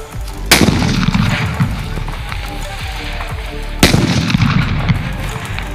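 Diwali sutli bomb firecrackers set off in a hole alongside a burning chakri spinner give two loud, sharp blasts about three seconds apart, each with a booming low-end thud and a crackling tail.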